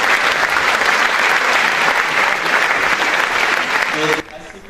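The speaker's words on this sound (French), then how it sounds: "on peut l'applaudir." Audience applause at a sports awards ceremony, a steady dense clapping crowd that continues loudly and then drops off suddenly near the end, leaving a quieter room.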